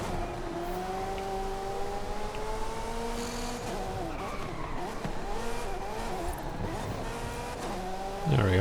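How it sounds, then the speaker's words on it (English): A Ferrari F40 drifts in Forza Horizon 5, its engine droning steadily with rising and falling revs and tire squeal through the slide, loud and continuous, with a brief burst at the end. "Drifting! If you always wanted to drift in an F40,"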